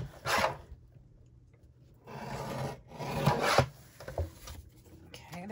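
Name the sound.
trimming paper for card making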